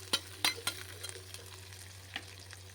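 Small shallots, a handful of garlic and curry leaves fry in a pan with a soft, steady sizzle broken by a few sharp spatula taps and stirs.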